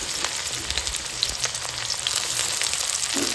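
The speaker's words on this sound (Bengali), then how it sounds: "পেঁয়াজটাকে আমি লাল লাল করে হালকা একটু ভেজে নেব" Chopped onion with fenugreek seeds frying in oil in a wok, a dense, even hiss of sizzling that holds steady and close for a few seconds, loud and with no voices over it.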